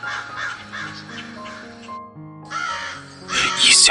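Several crows cawing in loud, repeated harsh calls, close by and overlapping, with a brief pause before a final burst of raucous cawing.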